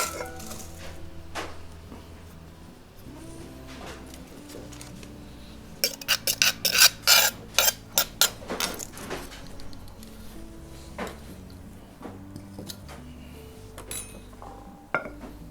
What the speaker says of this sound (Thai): นำไปใส่หม้อที่เราจะต้ม